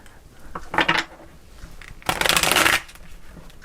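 Tarot cards riffle-shuffled by hand in two close, crisp bursts, a short one and then a longer, louder one, in a quiet room with no talk.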